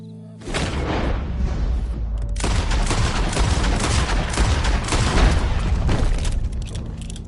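Red Dead Redemption 2 gunfire in a sustained, loud burst of shots and booms that sets in after half a second and carries on continuously, dense and rumbling, with no talk over it.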